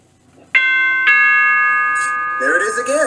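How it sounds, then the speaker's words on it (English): Doorbell chiming twice in a room, two loud ringing tones struck half a second apart with long sustained decay, close and clear, followed by a brighter ringing flourish. "Doorbell."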